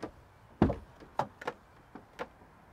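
The back doors of a Promaster City camper van are worked open with a handful of quiet clunks and latch knocks spaced irregularly, one firmer thud among them, faint and close with no talking.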